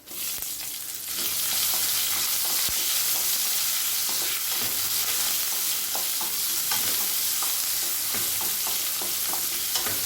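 Long-sliced onion is dropped into hot oil with spices and then stirred, a loud hiss that rises sharply at the start and keeps going, with repeated scraping strokes of a spoon in the pan and no voices.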